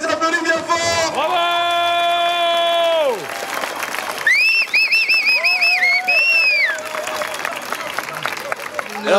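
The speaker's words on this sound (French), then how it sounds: "on les applaudit bien fort" An audience applauds the winners of a women's tractor race at the Grand Born podium. Clapping and crowd noise run steadily throughout, mixed with loud sustained horn-like tones and whistling calls.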